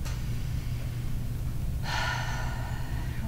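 A single deep breath taken during a tapping exercise, starting partway through as a loud, close, airy inhalation over a low steady background hum.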